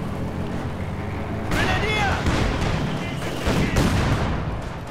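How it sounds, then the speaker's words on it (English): Field gun firing in a Company of Heroes 2 one-versus-one battle: heavy booming shots and scattered gunfire over a rumbling battle din, with a voice talking over parts of it. "Field gun continues to fire away"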